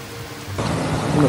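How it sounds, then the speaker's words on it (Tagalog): Rain pours steadily at a riverside resort, a dense hiss that swells louder halfway through, close and continuous with no talking. "in-enjoy na lang din namin yung ulan."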